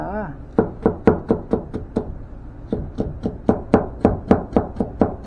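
A knife taps rapidly on a cutting board, julienning a firm, cold cucumber into thin strips: quick, even knocks in steady bursts, close and crisp, with a short pause partway through.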